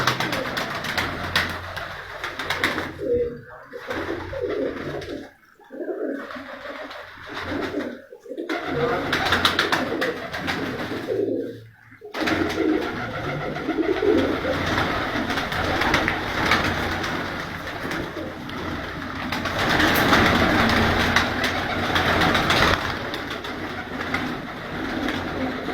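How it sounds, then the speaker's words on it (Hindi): Breeding pairs of pigeons coo continuously in a rooftop loft. The soft, overlapping calls are close and fairly loud, with some voices faintly underneath. "जहां पर उनके जोड़ों वाले कबूतर मौजूद हैं"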